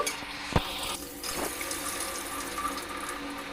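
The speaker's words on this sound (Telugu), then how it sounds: "ఫస్ట్ రైస్ అయితే కడిగి పెట్టేస్తానండి" Rice being washed with water in a kitchen, rinsed two or three times, gives a continuous nearby splashing and swishing with a short knock near the start and no one talking.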